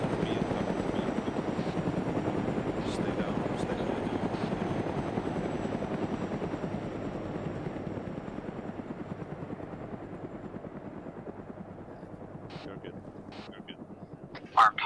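Steady video game helicopter rotor thump and engine drone, loud and close at first and gradually fading, with a few sharp clicks near the end.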